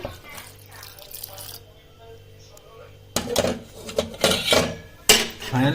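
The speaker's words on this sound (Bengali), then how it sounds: "বাকি দুধটা যেটা আছে আমি এটা দিয়ে দিচ্ছি" The remaining milk is poured into a pot of rice payesh sweetened with jaggery: liquid splashes and the knocks of a metal pot come in short bursts after a stretch of quieter kitchen sound, with a voice talking throughout.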